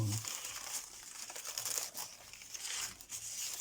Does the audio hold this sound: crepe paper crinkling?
yes